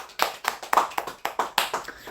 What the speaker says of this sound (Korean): 하나님께 영광의 박수를 올립니다